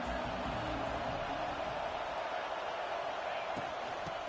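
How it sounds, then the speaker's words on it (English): Stadium crowd noise from a college football video game, a steady, dense roar of many voices that holds at an even loudness throughout, with no single sound standing out. "This crowd bringing the energy and noise early"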